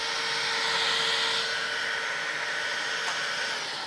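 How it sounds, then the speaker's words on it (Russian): A Bosch vacuum cleaner runs with a steady, loud whining drone throughout, close by and without any talking. "Бош пылесос."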